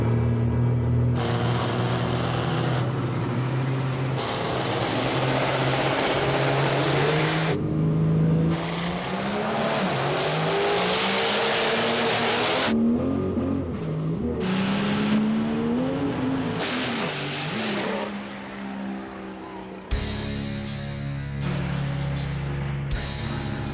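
Diesel truck and Camaro engines roar through a drag race, loud and sustained, with revving that rises and shifts, tire noise and a rushing pass as the vehicles launch and run side by side.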